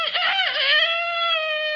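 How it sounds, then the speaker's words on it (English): A chicken crows once, close and loud, its shrill call rising and then holding a long, steady, strained note with no other sounds around it. "It's just a chicken crowing."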